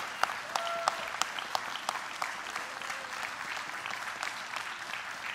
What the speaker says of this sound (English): Give Justin a round of applause.